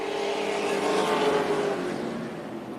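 NASCAR race cars at Tucson Speedway, a loud roaring engine drone that swells to a peak and then fades slightly as the cars sweep past, with no voices.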